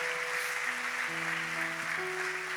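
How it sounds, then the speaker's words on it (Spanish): A church congregation at a plenary worship service claps together, a broad wash of applause under sustained keyboard or organ tones that shift pitch partway through. "Más fuerte ese aplauso, hermanos."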